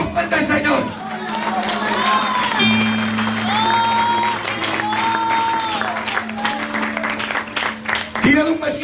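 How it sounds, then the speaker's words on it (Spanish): A church congregation claps and cheers during a lively evangelical service in New Haven, Connecticut, a loud sustained wash of applause and voices with music and a singing voice over it, swelling again at the end. "Dele un aplauso fuerte al Señor"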